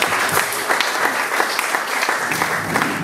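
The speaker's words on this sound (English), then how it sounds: "Can we get a big round of applause for everybody that's gone up so far and performed for this?" A full audience at a live comedy performance event gives a loud, dense round of applause that fills the room steadily for the whole stretch with no pauses.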